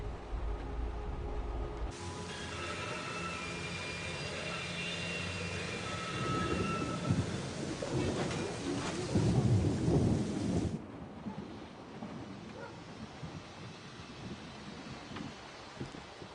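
A thunderstorm in the video game Syberia: The World Before, with steady rain and a long rolling rumble of thunder that swells midway, then the storm fades to a softer rain wash.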